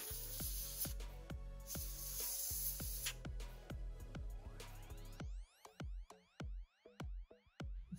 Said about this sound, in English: I'll hit it first with some compressed air